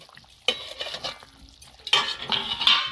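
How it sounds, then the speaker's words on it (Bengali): Fried lata fish drop into a simmering pot of potato curry: two sudden bursts of splashing and sizzling with stirring clatter between them, close and fairly loud, no voices. "এবার আমি এই ভাজা মাছগুলোকে দিয়ে দেবো"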